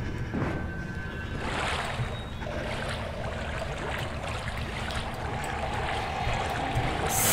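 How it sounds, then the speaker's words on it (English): Steady broadband rush of water flowing through a sewer in the horror game Outlast, with faint trickles and splashes layered over a continuous low roar throughout. "It's just water."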